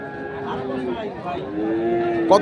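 A bull lows at a busy cattle market selling large sacrificial bulls for Eid, a long drawn moo rising over the crowd, with people talking nearby and a brief clatter at the end.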